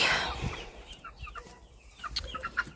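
Domestic chickens cluck in short, scattered calls close by, with a louder burst at the start and a busier run of clucks toward the end, no talking.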